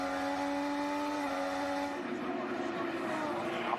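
IndyCar race cars passing at Iowa Speedway in the closing laps, a high engine whine that drops in pitch as a car goes by, heard under steady commentary.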